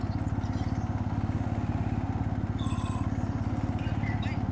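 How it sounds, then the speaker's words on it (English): Motorbike engine running steadily through a ride, a loud continuous low rumble with rapid regular firing pulses close by, a few faint higher tones briefly over it. "Oh, you're on your motorbike?"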